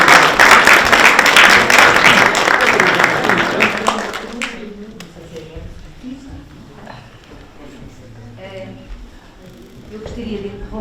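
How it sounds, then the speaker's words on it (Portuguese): An audience applauds at a presentation in Belém Palace, a dense burst of clapping for about four seconds before it cuts off and voices talk over quieter room sound. "vamos salvar palmas para isso."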